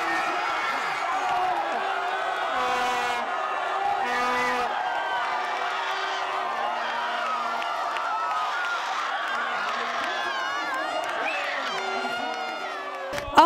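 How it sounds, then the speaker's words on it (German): Football fans at a public viewing on the Kelterplatz cheer and shout after Germany scores against the USA, a dense crowd roar with whoops and voices carrying on loudly throughout. "Die Fans auf dem Kelterplatz jubeln"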